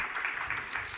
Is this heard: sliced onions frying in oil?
no